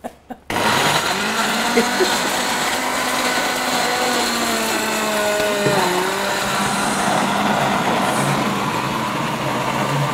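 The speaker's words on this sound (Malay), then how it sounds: "kita akan siap tumis bahan yang di blender" A kitchen blender whirs loudly and steadily as it purees red chillies and bird's eye chillies for cooking, after a brief start-up with a few clicks.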